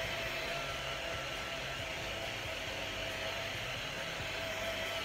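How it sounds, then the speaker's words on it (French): A small battery-powered handheld fan from Action runs steadily close by, giving a constant airy whir with a faint motor hum throughout, with no talking. "Alors je vais prendre un petit ventilateur de chez Action,"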